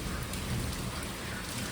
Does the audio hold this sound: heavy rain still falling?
yes